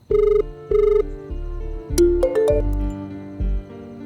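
A telephone rings in loud repeated electronic bursts with short gaps between them, close and clear, followed by a few clicks and tones as the handset is picked up.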